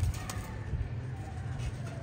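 Pigeons at a club loft, hungry around feeding time, giving low soft throaty coos that pulse steadily under a faint background hum.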